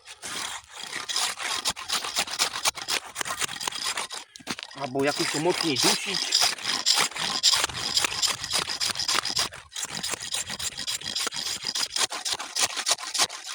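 Steady back-and-forth rasping of a new hand saw through wood, fast strokes with a brief pause, someone speaking briefly over the cutting.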